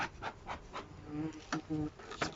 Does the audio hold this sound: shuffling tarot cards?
no